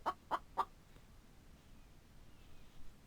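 A chicken in a survival video game gives three quick, close clucks at the start, then near silence with faint background noise.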